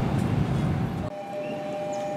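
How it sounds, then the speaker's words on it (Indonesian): A container freight train passes close by, a loud rumbling roar that drops abruptly into a quieter clatter with a steady ringing rail tone. "Akhirnya melihat kereta api kontainer lagi di sini"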